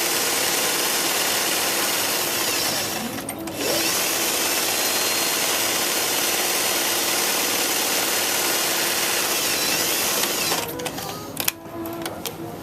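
A sewing machine runs steadily and loudly as it stitches a half-inch seam on a pillowcase, its whirring drone continuous apart from a brief pause early on and a few uneven stops near the end.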